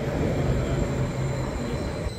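A long passenger train pulls into a station, a steady, fairly loud rumbling roar with faint high squeal, continuous throughout with no voices.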